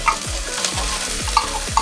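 Ground meat (giniling) sautéing in a hot pan, a steady close sizzle with a few stirring scrapes, no voices.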